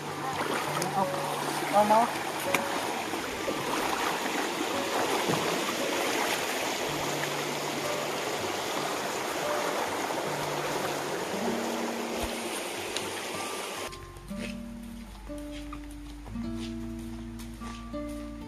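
Steady rush of waterfall water flowing over rocks at a waterside spot, a dense, even wash with faint voices beneath, cut off near the end by a few clear tonal notes.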